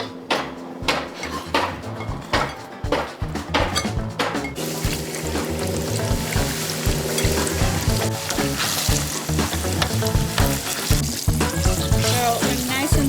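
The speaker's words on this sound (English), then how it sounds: "we're gonna toss it again in our breading and then fry it for like 30 seconds" Breaded fish sauce chicken wings sizzle in hot oil, starting with a few sharp clatters and splashes before a loud, continuous crackling fry takes over, close up.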